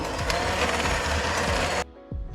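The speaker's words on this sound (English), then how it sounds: "I'm going to beat it again for another 5 minutes. And may I beat this on high speed" An electric mixer beats Jamaican rum cake (black cake) batter on high speed with a steady, close mechanical whirr and rattle. It cuts off abruptly near the end, followed by a brief clunk.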